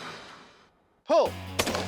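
Gunshots fired in target practice on fake grenades, two loud sharp blasts a half second apart with ringing tails, after a faint stretch of background noise.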